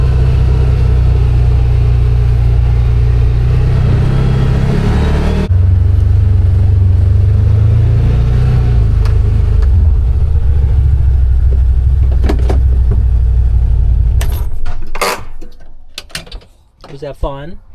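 A CFMoto UForce 1000 side-by-side engine rumbles and accelerates loudly and close, easing off partway through, then gives way to a few knocks and clunks as it drops away near the end.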